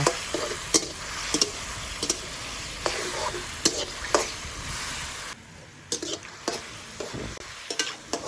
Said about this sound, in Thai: เสร็จแล้วก็พัดส่วนผสมทุกอย่างให้เข้ากันจ้ะ